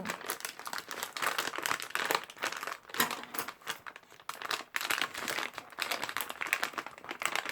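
Plastic packaging around a squishy toy is crinkled and torn open by hand, a dense run of close, loud crackling and rustling with irregular bursts of tearing and short pauses.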